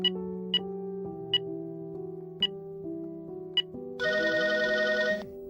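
A phone ringtone plays after a number is dialed: a melodic tone pattern with short clicks repeating for several seconds, then a brighter, louder ring tone near the end, heard alone with no talk.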